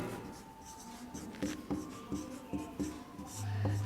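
Chalk or marker scratching across a classroom board as a teacher writes, with short strokes and taps in an irregular rhythm, close and fairly quiet, with little talk.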